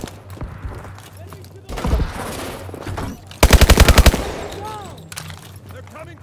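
Automatic gunfire in the futuristic shooter Call of Duty: Advanced Warfare, with a loud rapid burst of close rounds after scattered shots and a heavier blast, over a battle din with shouted voices.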